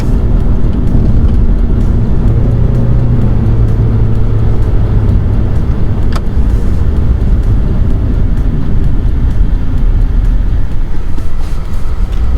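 2017 Chevrolet Cruze LT with drilled and slotted front brakes slowing in a brake test, a loud continuous road and engine roar from inside the car, no talk.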